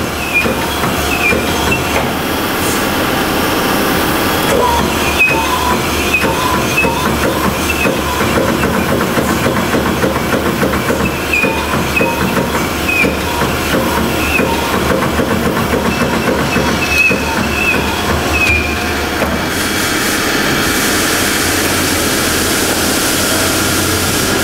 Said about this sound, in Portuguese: Então, senhor Paulo, tem que brunir para colocar a camisa.